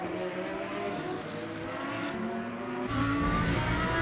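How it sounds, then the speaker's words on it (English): A Lamborghini Huracan Evo 2 race car in a racing video game at the Paul Ricard circuit, its engine droning steadily and then swelling louder as it revs harder near the end, with no talk. "Lamborghini Huracan Evo 2. That's what this car is."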